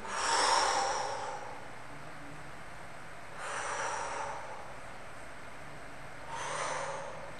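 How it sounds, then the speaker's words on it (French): Forced breathing during a stretching recovery routine: three loud, close exhalations with quieter inhales between them, spaced about three seconds apart. "Je force ma respiration pour que vous entendiez, sur le souffle je descends, sur l'inspire je reviens"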